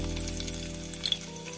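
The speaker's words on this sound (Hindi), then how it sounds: "अब इसमें हम कटा हुआ गार्लिक डाल देंगे" Chopped garlic frying in oil in a pan for a dal tempering, giving a steady soft sizzle close by with a brief faint tick near the end, no voices.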